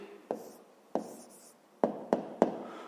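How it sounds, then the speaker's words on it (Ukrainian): A pen writes an answer to a maths exercise in five short close strokes: two spaced apart, then three quicker ones in a row, with no talking. "Пишемо відповідь"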